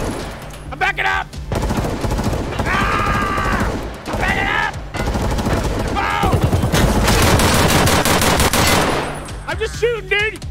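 Rapid automatic gunfire from an Escape from Tarkov firefight, long dense bursts of close, loud shots with brief pauses, while players shout over the shooting.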